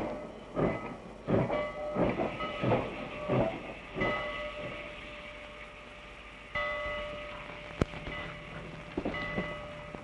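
A train rumbling along with rhythmic clickety-clack bursts and a steady hiss, heard from nearby with no voices.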